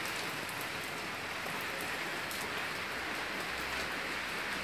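Rain falls steadily as a soft, even wash of hiss, heard alone with no talk while a seafood delivery truck is out on the road.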